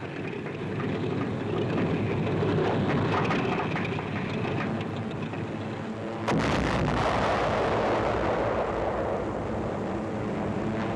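Anti-aircraft flak fire bursts around a C-46 transport plane in wartime combat, a dense, continuous rumble and crackle of distant detonations with a sharper, louder burst partway through; no voices.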